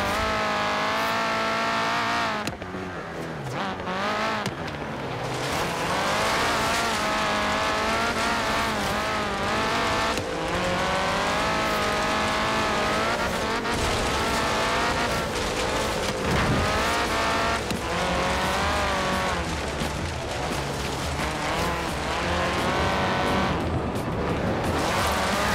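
Car accelerating in the racing game Forza Horizon 3 during multiplayer, a loud continuous engine roar rising and dropping through gear changes with tyre noise, dense and sustained throughout.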